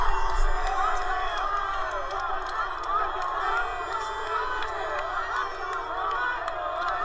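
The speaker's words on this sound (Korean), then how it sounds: "관중들 반응도 엄청납니다." A large crowd at a political rally in Gwanghwamun Square cheers and whoops with steady loud roar and babble, continuous throughout with no single voice standing out.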